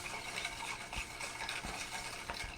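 A bar spoon stirs a cocktail over ice in a glass, producing faint, rhythmic clinks and swirling rattles close by with no talking.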